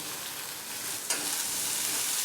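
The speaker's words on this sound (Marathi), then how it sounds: "कांदा पण भाजून घेऊया" Onions fry in hot oil in a tadka for Kolhapuri whole masoor curry, a steady, close sizzle that jumps louder partway through as the pan is stirred.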